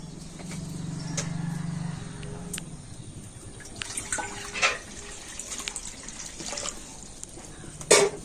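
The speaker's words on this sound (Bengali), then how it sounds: "আর এবার আমি কড়াতে দিয়ে দেব জল" Water is poured into a kadai (wok) while cooking raw mango murabba: a close, steady rushing pour in the first couple of seconds, then quieter trickles, clinks and a sharp knock near the end.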